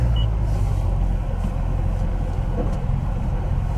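Steady low car rumble as a Corvette pulls in and rolls slowly on arrival at a Chevrolet dealership, a continuous close engine drone with no sharp revs.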